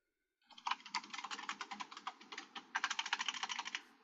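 Rapid typing on a computer keyboard, a quick run of crisp clicking keystrokes with a short pause midway, close and fairly quiet with no talk.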